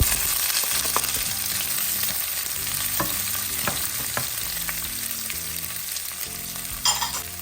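Garlic and onion sauté in hot oil in a pan for igado, a steady close sizzle and crackle with a few scraping stirs and a brief louder spatter near the end, with no voices.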